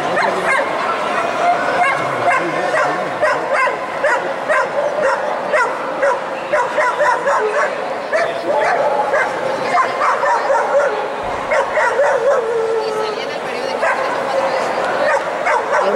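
Several dogs bark, yip and whimper almost continuously amid a busy, echoing dog show crowd in Alicante, with voices mixed into the noisy indoor chatter.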